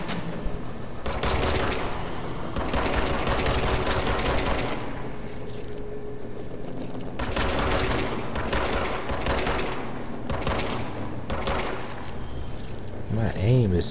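Rapid bursts of automatic gunfire from the third-person shooter Control, loud and sustained across most of the stretch with brief lulls, while someone talks over it.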